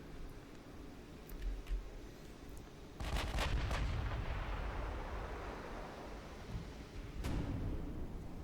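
Naval gunfire and shell impacts in the warship game Ultimate Admiral Dreadnoughts, with heavy booming blasts and rumbling explosions, a big salvo near the middle and another crack toward the end over a low battle rumble.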